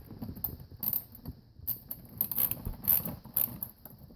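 Ratcheting wrench loosening an 8 mm bolt on the air intake housing clamp of a 2006 Hummer H3, a series of quick close clicks and metallic rattles in short bursts with brief pauses, no talking.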